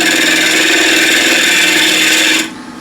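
A spindle gouge cuts into wood spinning on a lathe during bowl turning, making a loud, continuous, rough scraping hiss that runs steadily, then cuts off near the end.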